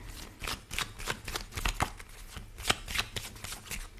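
Tarot cards handled and laid down in a steady run of soft, papery slaps and shuffles, close up and alone with no talk.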